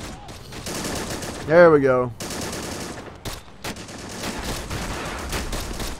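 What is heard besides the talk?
gunfire from the video game Men of War Assault Squad 2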